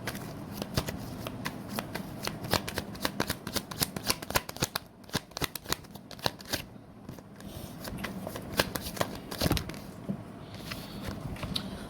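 Tarot cards shuffled by hand in a steady run of crisp riffling flutters and soft slaps, close and fairly quiet, with brief pauses between bursts and no talking.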